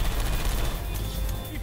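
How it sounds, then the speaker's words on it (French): Gunfire rattles in the PC video game Portal 2, with dense rapid shots forming one loud, continuous burst throughout. "J'ai entendu des coups de feu!"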